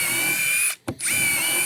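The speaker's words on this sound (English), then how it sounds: "Here's the same drill." A cordless drill whirs loudly and steadily, cutting off briefly for a short pause before spinning back up to the same high whine.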